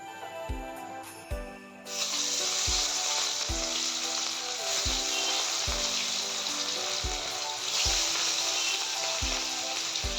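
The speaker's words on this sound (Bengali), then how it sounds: "আমি এখন মাছটাকে ভেজে নেব।" Rohu fish pieces frying in hot oil in a wok, a loud dense crackling sizzle that surges after a quieter start, with regular low thumps recurring in the background.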